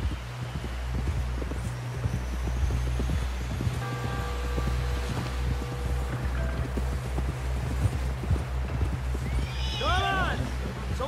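Horse hooves clip-clop in Red Dead Redemption 2, a close, irregular run of hoofbeats over a steady low drone, with a horse neighing near the end and voices calling over it.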